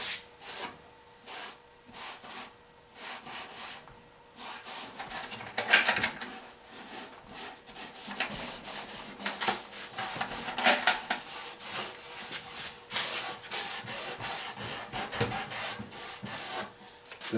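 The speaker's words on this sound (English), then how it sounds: "So I'm just putting a good little layer of stain. Give it a good coating." Wood stain being rubbed onto a wooden ammo box with a cloth: close, dry scuffing strokes repeating in irregular bursts, some quick and light, others longer and firmer, with no talking.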